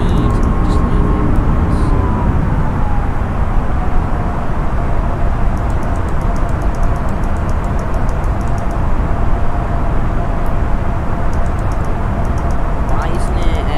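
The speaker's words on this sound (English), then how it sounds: "it's just because the airplane sounds are really loud" Steady loud cockpit rumble and engine drone of an Airbus A320neo airliner in Microsoft Flight Simulator 2020, constant throughout with a faint whine, under a voice speaking.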